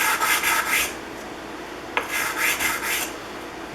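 The sides of a Stanley No. 33 jointing plane iron are rubbed back and forth on a lapping station, with a close, gritty scraping in repeated strokes and a brief click between passes.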